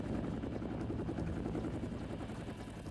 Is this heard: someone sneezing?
no